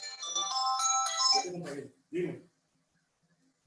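A mobile phone ringtone plays a bright, sustained melodic tone for about a second and a half during a training session, then cuts off, followed by a brief spoken sound and silence.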